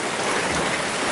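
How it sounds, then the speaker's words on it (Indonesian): Heavy rain pouring down in a village, a dense, loud and unbroken hiss of falling water filling the whole moment with no voices. "ini hujan deras dan wah nggak karu-karuan pokoknya"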